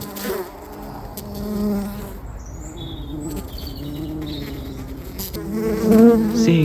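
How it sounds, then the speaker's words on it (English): Honeybees buzzing around a beehive entrance in early spring, a dense, continuous drone of many wings close by, with individual bees passing near and some faint bird chirps in the background. "Seeing bees bringing in pollen is a really nice sign"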